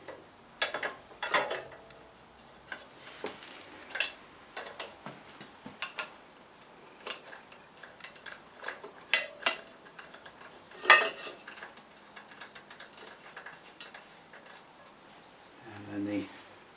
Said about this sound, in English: pop chain guard back on